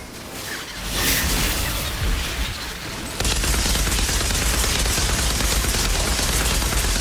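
Gunfire from the shooter game Outriders roars nonstop and loud, a thick wall of rapid shots and blasts that grows denser after a few seconds, with no talk.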